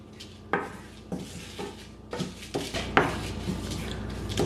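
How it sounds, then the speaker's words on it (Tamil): A utensil scrapes and knocks against a pan in irregular strokes while dried red chillies are stirred and roasted, the clatter close and moderately loud without talk. "இப்போ இதை நல்லா கிளறி வறுக்கணும்"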